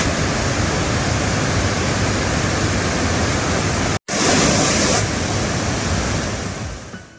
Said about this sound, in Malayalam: പാറക്കല്ലുകളിൽ തട്ടി പതഞ്ഞൊഴുകുന്ന വെള്ളച്ചാട്ടം